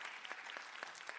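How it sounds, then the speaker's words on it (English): Brief, quiet clapping from a small crowd at a nursing graduation ceremony, a scattered patter of hands with a few sharper claps standing out, no voices. "a round of applause for the recipients"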